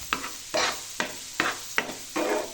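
Green chilies stirred and dry-roasted in a pan for village-style thecha, with rhythmic scraping strokes roughly every half second over a soft sizzle, close and fairly quiet.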